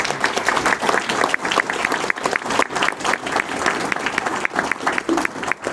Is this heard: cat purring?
no